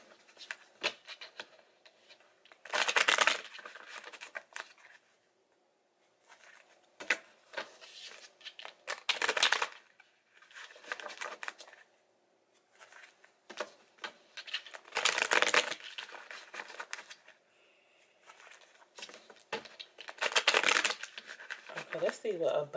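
Tarot cards are shuffled by hand in repeated papery riffling bursts throughout, while a person talks quietly between and over them.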